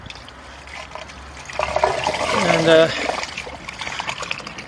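Biogas slurry from a leaf-fed digester tank trickles and splashes out as fresh feedstock is poured in, building to a fuller pour midway, with a brief spoken word over the liquid sounds.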